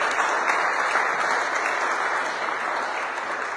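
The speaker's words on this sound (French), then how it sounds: "Dans le nom de Jésus, acclamons très fort le Seigneur." A church congregation applauds loudly and steadily, a dense wash of clapping from many hands that holds throughout and fades slightly at the end.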